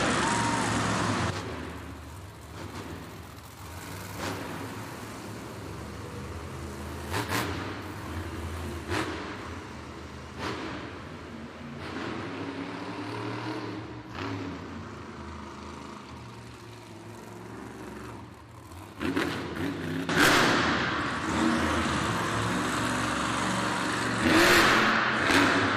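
A monster truck engine revving at a Monster Jam arena event in Worcester, with loud rising and falling surges, bursts of throttle, and arena crowd noise throughout.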